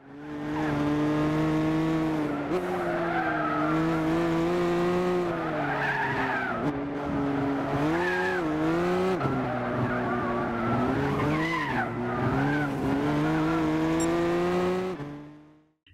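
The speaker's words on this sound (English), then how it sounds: "Compare this footage of the Nürburgring on Gran Turismo" Race cars in Gran Turismo lap the Nürburgring, engines droning loudly and steadily throughout while tires squeal and skid through the corners, with pitch rising and falling as the cars brake and accelerate.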